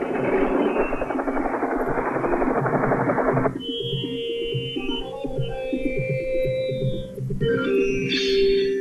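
A helicopter's rotor and engine drone loudly and steadily, with a change partway through as higher whining tones rise over the continuous low thrum.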